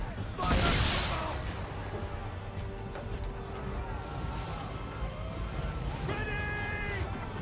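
Swivel guns fire from a ship during a naval battle in the pirate game Assassin's Creed, giving one loud close blast at the start followed by rumbling battle noise, with a shouted command near the end.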